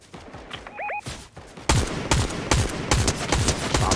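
Bursts of automatic gunfire crackle loudly in a Fortnite battle, with rapid shots stacking densely in the second half after a quieter opening with a brief whinny-like call.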